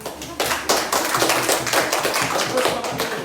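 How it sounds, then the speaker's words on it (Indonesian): Children in a primary school classroom clap their hands during a teaching practice lesson, a burst of loud, close, fairly rhythmic claps lasting a few seconds. "tepuk tangan."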